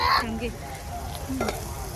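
Spice tempering sizzles in hot oil for a fish dish, a steady frying crackle with faint stirring and a few brief tonal squeaks over about two seconds; no one speaks.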